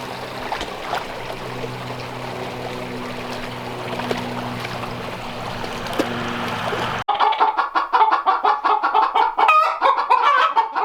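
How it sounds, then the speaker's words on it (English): Laying hens cluck busily around their nest buckets on a cold Wyoming mountain homestead. A steady, noisy background with a low hum gives way to a dense run of close, rapid, overlapping clucks. "The hens are all laying very actively right now, so there's a lot of discussion about who gets which nest bucket."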